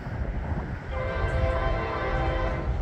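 A CSX freight train approaching a historic depot in Pesotum sounds its horn in a sustained, steady blast over the low rumble of the moving train.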